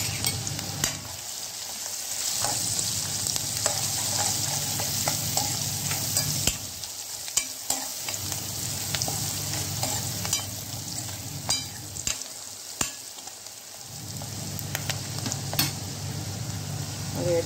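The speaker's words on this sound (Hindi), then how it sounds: "और मैं इसमें मूंगफली के दाने भी डाल दूंगी, वो अच्छे से पक जाए।" Peanuts frying and being stirred in a pan while preparing poha, a steady loud sizzle with scraping stirring strokes, briefly dipping in a few spots, no talking.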